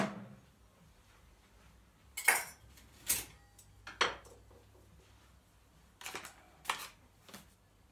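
A whisk and spoon picked up and set down in a quiet kitchen, producing a handful of separate sharp metallic clinks and clatters spaced out by stretches of near silence.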